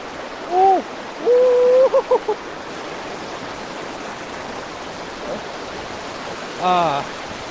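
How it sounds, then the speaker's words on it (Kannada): Broadband rush of a lake-fed waterfall with cold water splashing, steady throughout, while a few short tonal calls and hoots sound over it. "ತಣ್ಣಗಿರೋ ನೀರು ಎಗರ್ತಾ ಇದೆ ಹಂಗೆ"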